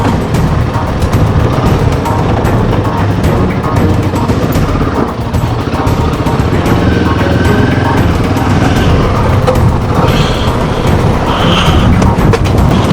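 Motorbike engine droning loud and close while riding an offroad mountain pass between Sach Pass and Killar, a continuous rough rumble with wind buffeting over the whole ride.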